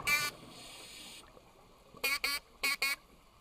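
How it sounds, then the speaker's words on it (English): A diver's alert horn sounds on a shark dive: one long tonal blast, then two pairs of short, loud blasts over quiet underwater background. "Then Randy signaled with his dive alert."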